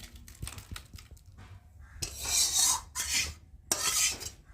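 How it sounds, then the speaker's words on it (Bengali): Cooked spinach dal being poured out of a pot, with soft scraping and clinks of utensil on metal, then two louder bursts of wet, rushing pouring sound, close up with no talk. "চলো, তার আগে ডালটাকে ঢেলে নিই।"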